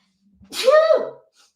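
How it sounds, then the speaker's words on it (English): A single loud sneeze, close and sharp, with a brief intake of breath before it, otherwise quiet. "I have to sneeze."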